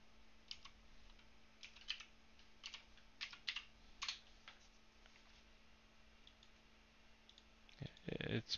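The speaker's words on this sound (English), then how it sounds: "you probably hear my phone as I'm searching for this" Fingers tap and click on a phone screen in quick irregular bursts while searching for a Magic: The Gathering card, soft and close, with a faint steady hum beneath and a louder rustle at the end.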